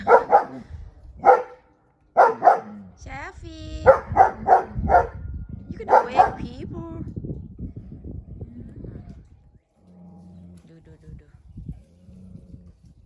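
A German Shepherd barks in short, loud bursts, several times in quick succession, at cattle grazing along a fence, then falls quiet while someone talks; cattle sounds faintly follow.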